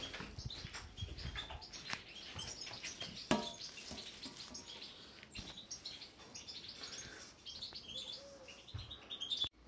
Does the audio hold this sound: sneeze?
no